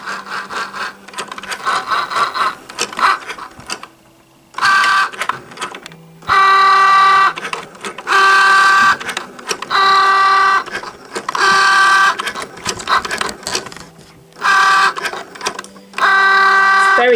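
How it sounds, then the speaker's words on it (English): A Cricut Joy cutting machine working through a card, with loud whirring motor bursts and a high tonal whine that start and stop in repeated runs, separated by short quieter pauses and faint clicks. "now we're going to press go, and it's preparing. Go, Cricut Joy, go!"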